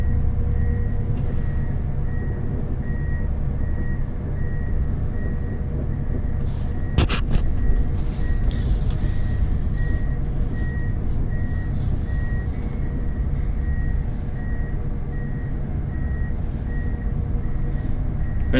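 A 2022 Gleaner S97 combine harvester rumbles as it drives and reverses, a deep steady engine drone with a regular reversing beeper pulsing over it and a brief clunk partway through.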